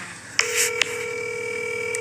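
A phone call is dialed with two short keypad tones, followed by a steady, sustained electronic tone on the line.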